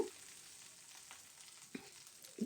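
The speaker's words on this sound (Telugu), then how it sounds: "పచ్చిమిర్చి ఫస్ట్ వేసుకుంటే బాగా మగ్గిపోతాయి అన్నమాట మనకు ఆయిల్లో" Green chillies frying in oil, a faint steady hiss and sizzle heard close, with a couple of soft stirring scrapes and no speech.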